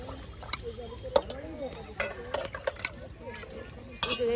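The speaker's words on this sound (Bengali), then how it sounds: "হলুদ, মরিচ, আদা, জিরা, রসুন, ধইনা সবে দেখুন একসাথে দিয়া, বাহ, মশলাটাকে একদম আপনার পাতিলে কষিয়ে নেওয়া হচ্ছে" Ground turmeric, chili, ginger, cumin, garlic and coriander are stir-fried together in a cooking pot. A spoon scrapes and clinks against the metal in irregular strokes over a soft sizzle, with a voice faintly in the background.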